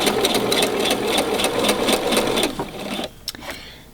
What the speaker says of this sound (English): So I'm just going to start sewing at the recommended seam allowance of your pattern.